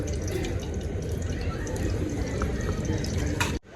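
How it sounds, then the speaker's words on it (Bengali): White cooking oil poured into a hot wok while cooking egg chow mein: a steady, close hissing pour running for several seconds before it stops abruptly. "সাদা তেল দিয়ে দিব চাউমিনের জন্য"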